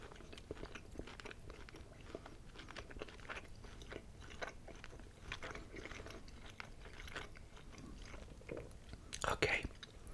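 Quiet mouth-close crunching and wet chewing of Boston Market prime rib alongside Sam Adams Octoberfest, with steady soft bites through the whole stretch and a louder burst of crunching near the end.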